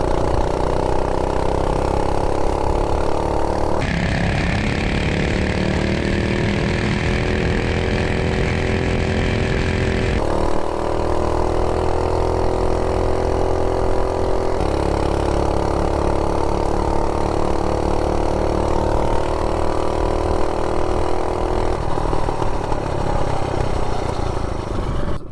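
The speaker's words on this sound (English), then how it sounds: "These little 98cc's are good running engines." A Rascal Lite 98cc minibike engine runs steadily and loud for the whole stretch, its pitch rising and falling as the throttle changes, a continuous buzzing drone close by with no voices.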